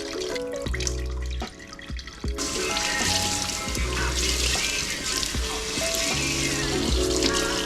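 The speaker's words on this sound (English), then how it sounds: "I'm gonna just like rinse this out with cold water and then put it in the wash." Cold water gushes steadily from a tap to rinse out a piece, a loud, continuous close-up rush with splashing that swells once the flow opens up fully.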